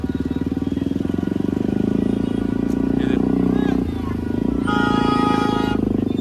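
Motorcycles riding in a Nagar Kirtan procession in Alwar, with a steady close engine rumble throughout, horn toots breaking in near the middle and end, and crowd babble underneath.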